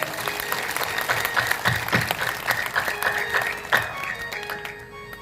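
A crowd claps steadily and loudly, with a thick wash of applause that lasts several seconds before easing off slightly at the end.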